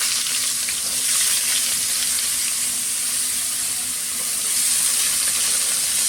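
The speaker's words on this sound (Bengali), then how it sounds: "এবারে আমি সবজিগুলোকে একটু ভাজা ভাজি একটু হালকা ভেজে নেব" Potato, carrot and papaya pieces lightly fry in hot oil, giving a steady, close, even sizzle with no talking.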